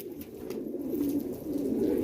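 Multani pigeons coo in a soft, close, continuous low throaty rumble that swells slightly, with no talk.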